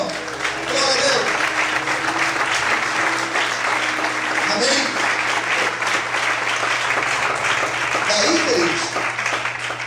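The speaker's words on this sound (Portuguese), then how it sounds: "Será que você pode aplaudir o Senhor?" Applause from a church congregation during a sermon sounds as a thick, continuous wash of clapping across the whole stretch, with a preacher's voice speaking over it at times.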